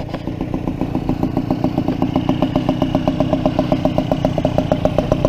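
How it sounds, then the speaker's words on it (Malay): Yamaha Y100 Sport motorcycle engine while riding uphill, a steady close pulsing putter with a regular rhythmic beat that holds throughout at a constant, fairly loud level, with no talk over it. "Gear 2 dia meraung, gear 3 dia mati."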